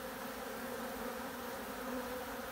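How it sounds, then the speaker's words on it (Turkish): Honeybees swarm in a steady, dense buzz around a hive during an orientation flight, a continuous hum that holds evenly from start to end with no voices over it. "Gördüğünüz gibi arı da coştu."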